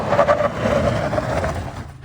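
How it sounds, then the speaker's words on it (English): A Tata Harrier Petrol SUV brakes from 80 km/h, a broad rush of road and tyre noise with a low hum that fades out near the end as the car slows to a stop. "Here's us doing a brake test from 80 km/h."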